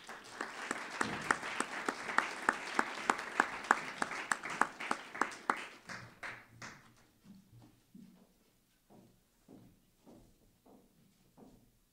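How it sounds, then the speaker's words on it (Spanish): Applause from the audience at a history museum award ceremony, a burst of claps that fades over several seconds into scattered single claps and quiet shuffling. "Le damos un fuerte aplauso para recibirlo."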